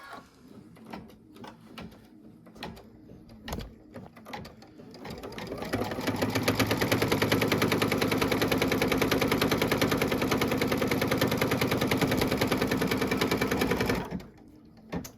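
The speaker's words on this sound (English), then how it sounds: "It is now going to do a stitch all the way up the left side." An embroidery machine stitches a hot pad with a rapid, even mechanical chatter that starts around six seconds, runs steadily and close for about eight seconds, then stops, after a stretch of quieter handling clicks.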